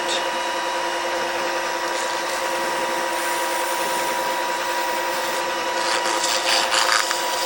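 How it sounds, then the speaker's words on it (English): Sandpaper rubs burnishing marks off a turned wooden box spinning on a lathe, a close, loud, continuous abrasive hiss over a steady mechanical hum, with a few rougher scratchy bursts near the end. "So if I just sand off the burnishing marks, I'll get closer and closer to the perfect fit."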